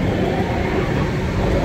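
A charter train from Crewe to London Euston rumbles past at close range, giving a loud, dense, steady roar with no pauses and no voices.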